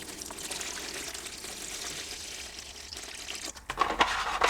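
Strong 30% vinegar poured over a hand-forged 5160 steel knife blade to strip forge scale, a soft steady liquid pour with a brief gap and then a louder, splashier stream at the end.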